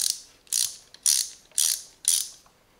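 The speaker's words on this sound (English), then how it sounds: "One ratchet handle," The ratchet handle of a cheap socket set clicks in four separate close, crisp bursts, each a quick rattling run of pawl clicks, evenly spaced about half a second apart.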